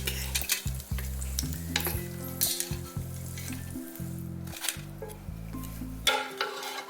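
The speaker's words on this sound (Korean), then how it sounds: "중불 정도의 세기에서 노릇하게 튀겨주세요." Tofu frying in oil over medium heat for North Korean-style tofu rice, a dense continuous sizzle and crackle heard up close with occasional sharper spits, steady throughout with no voices.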